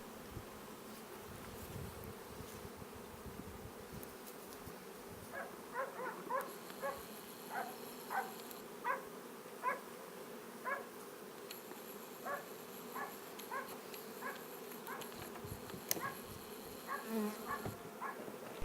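Honey bees buzz around an open beehive, a continuous close drone with repeated short louder buzzes as individual bees pass near, and no talking.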